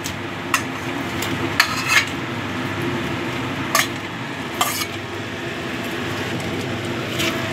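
Already-fried potatoes go into a pan for a duck egg curry and are stirred, a steady sizzle broken by sharp clacks of a utensil against the pan.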